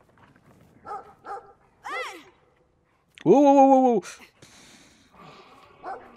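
A dog in the video game Brothers: A Tale of Two Sons lets out short barks and one long, loud drawn-out yelp or growl, mixed with a player's startled exclamations.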